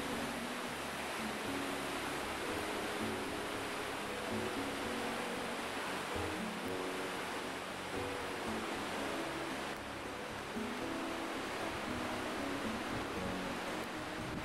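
The Krčić, a small river below Dinara in Lika, runs full in spring, making a constant broadband rush of flowing water that stays steady and fairly faint throughout.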